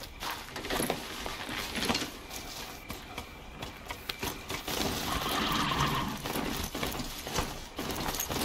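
Horse in the video game Horizon Zero Dawn: steady clip-clopping hoofbeats at close range, mixed with mechanical game noises and a possible brief whinny, with no talk over it.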